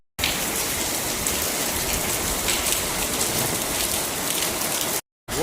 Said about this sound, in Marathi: तुम्हाला माहिती आहे इतका पाऊस कसा पडतोय